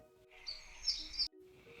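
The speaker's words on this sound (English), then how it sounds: "Some birds began chirping loudly and fluttering around her head." Birds chirping loudly, a burst of bright close tweets and squeaks over a faint backdrop, cutting off abruptly near the end.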